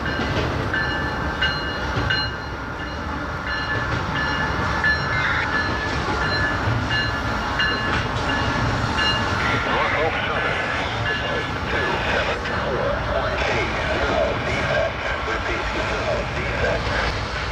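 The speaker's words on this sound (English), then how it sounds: "here came the train we had been waiting for all day" Freight train IO10 rolls past at Fostoria, Ohio, a continuous loud rumble of wheels and rail cars with engine drone and metallic squeals, heard up close from a caboose platform.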